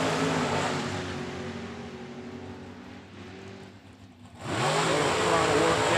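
Drag racing engines at a Super Pro bracket event, a loud roaring rumble that eases and thins mid-clip, then surges back hard as another car launches, with an announcer talking over the noise.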